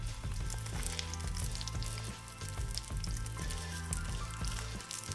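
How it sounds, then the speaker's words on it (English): Tofu pieces for teriyaki brown in a pan with a soft, continuous sizzle and crackle that stays fairly quiet and even throughout. "Then I'm gonna brown the other side for another 2 to 3 minutes."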